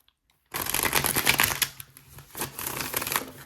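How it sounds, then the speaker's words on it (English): Tarot cards being shuffled close to the microphone, a dense riffling rattle that starts abruptly after a short silence and continues in two bursts with a brief lull between them, no talk over it. "Shuffle these one time just to make sure we clear the energy."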